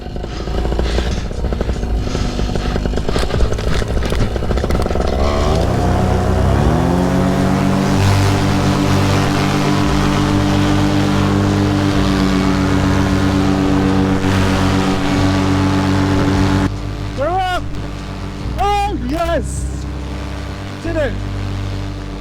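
A paramotor engine sputters, catches and settles into a steady, loud running drone on a foggy airfield, with brief bursts of wind noise near the end.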